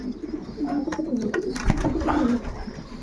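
Young pigeons coo in a loft as they sit in nest bowls: soft, continuous low cooing that carries throughout, with a few faint clicks and rustles.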